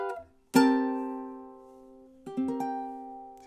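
Ukulele plays measure 19 of a song: a strummed chord rings out and decays slowly, then a few quicker plucked notes follow, close and clear with no talking.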